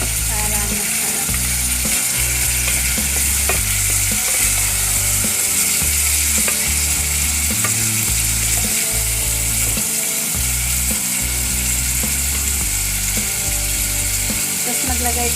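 Ratcheting clicks of a pepper grinder cranking out ground pepper over pork rib adobo with string beans, heard close over a steady loud sizzle of frying, with a low rhythmic hum beneath.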